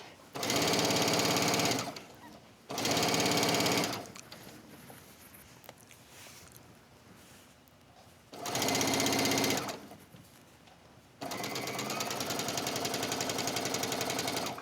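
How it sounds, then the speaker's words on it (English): Sewing machine stitching bias tape onto the edge of a wrap dress, running in loud, steady bursts of a few seconds each with quiet pauses between, then a longer continuous run at the end. "here I'm just gonna stitch"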